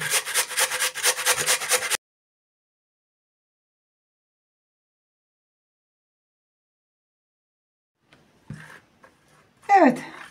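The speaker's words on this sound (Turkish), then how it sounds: "Şimdi hemen rendemle rendeleyeceğim. Tavamın içine hemen rendeliyorum." Potatoes are grated on the coarse side of a grater into a pan, a rapid rhythmic rasping of close strokes lasting about two seconds before silence, then faint handling sounds and a short burst of speech.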